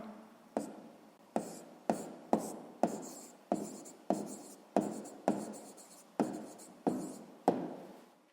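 Pen strokes writing down a sixth-grade math answer on paper, a steady run of about a dozen short scratching strokes, each starting sharply and trailing off, close and clear with no talking.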